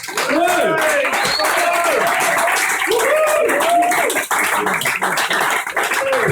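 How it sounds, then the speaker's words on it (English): A comedy club audience at an Edinburgh show applauds and cheers loudly, with whoops and shouts rising over steady clapping throughout the six seconds. "can I have a massive round of applause for Russ?"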